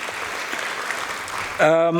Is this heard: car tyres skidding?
no